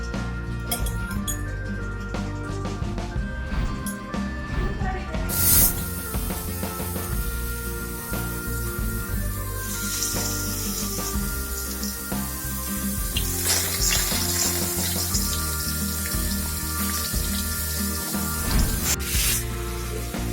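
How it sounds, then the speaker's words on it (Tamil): Marinated teriyaki chicken fries lightly in oil, giving a steady soft sizzle with occasional clinks and scrapes of a utensil against the pan over twenty seconds. "நம்ம ஏற்கனவே ஊற வச்ச சிக்கனை இப்போ எண்ணெயில லைட்டா ஃப்ரை பண்றோம்."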